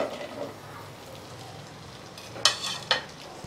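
Okra pieces frying in oil in a pan while making buttermilk kuzhambu give a quiet, steady sizzle, broken by a couple of sharp crackles near the end.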